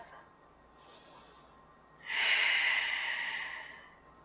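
An audible breath during a chair yoga pose for teens: a faint short inhale, then a louder, longer breathy exhale of about two seconds that fades out, close to the microphone, with no talking.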